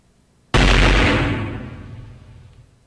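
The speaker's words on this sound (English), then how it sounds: "Confound it! More explosions?" A single loud explosion in the Hatoful Boyfriend video game bursts suddenly with a deep boom, then decays into a long rumbling tail over a couple of seconds, with no talk over it.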